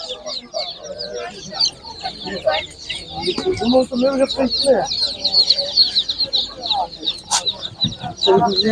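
Colourful young chicks and hens at an Ivano-Frankivsk animal market keep up a constant high peeping and clucking close by, while people talk briefly over the birds.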